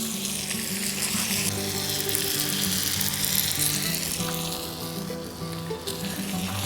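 Peppers and tomatoes sizzle steadily in a hot saj pan, a loud, continuous frying hiss with crackling and a low tonal hum underneath throughout.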